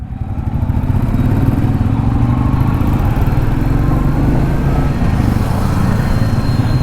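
A Royal Enfield motorcycle engine runs steadily and loudly nearby, with a thumping low idle on a hot day and no voices.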